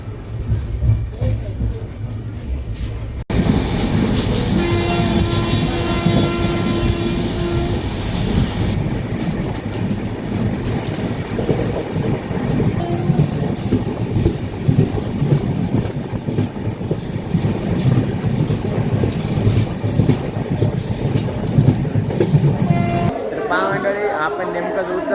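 A passenger train rumbles along the rails with rhythmic clickety-clack and occasional wheel squeal, loud and close from inside, with a steady hum and people chattering in the background.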